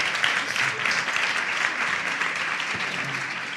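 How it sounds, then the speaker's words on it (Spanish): A studio audience at a television variety show claps in warm, dense applause that holds steady for several seconds and fades slightly toward the end. "Un gran aplauso a la travesti que madruga."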